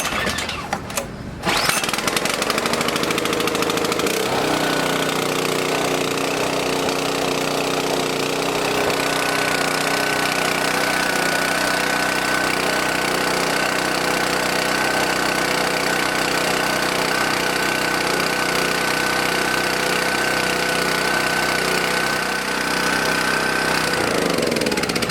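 A small gasoline engine treated with Ethanol Shield fuel additive sputters briefly, then settles into a loud, steady run that holds for over twenty seconds with a constant droning tone.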